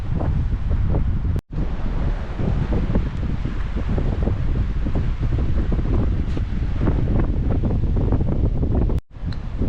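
Strong wind roars steadily across the microphone at a shopping centre in Mersin, a loud continuous rush broken by two brief dropouts, with no voices.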